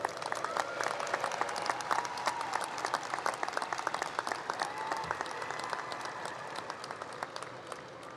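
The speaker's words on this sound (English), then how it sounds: "Let's give him one more round of applause" Sustained applause from a large audience at a Drexel University commencement ceremony, a dense steady patter of many hands clapping continuously throughout without pause.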